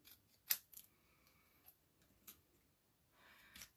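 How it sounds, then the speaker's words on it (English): Scissors snip through paper sentiment strips for card stamping: a few quiet, crisp cuts spaced across a very soft, near-silent background. "Sometimes we can cut these sentiments off the edge of them at an angle."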